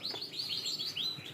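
A yellow songbird about one and a half years old, hand-reared, chirps in a quick run of bright, rising tweets that come close together and sound near and clear, with no voices in the background.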